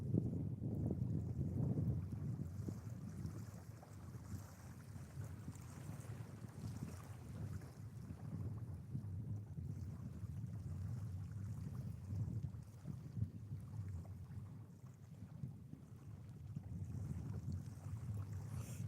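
Small fishing boat moving across open water close to the shore, with steady wind buffeting the microphone and a continuous low engine and water rumble throughout.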